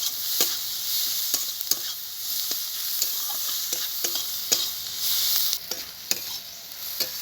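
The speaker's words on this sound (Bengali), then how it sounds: "আমি পেঁয়াজ পেঁয়াজ রসুন আর কাঁচা লঙ্কা ভিতরে দিয়ে দেবো একটু হলুদ দিয়ে দেবো একটু লবণ এগুলোকে আমি একটু ভালো করে ভেজে নেব" Onion, garlic and green chilli frying with turmeric and salt in a pan for Bengali kalmi shak bhaja, a bright continuous sizzle broken by regular sharp scrapes of a spatula stirring.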